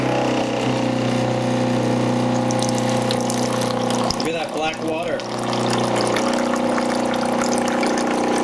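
Water pumped through an Aquasana filter into a dispenser, a steady continuous pump hum and flowing water throughout, with a brief louder gurgling surge midway before the even flow resumes.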